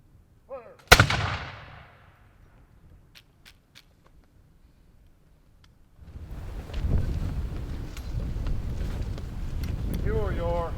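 A single ceremonial musket volley from flintlock firelocks at a memorial wreath-laying event: one sharp, loud blast with a ringing tail, then a long quiet stretch before wind noise and crowd rustle rise.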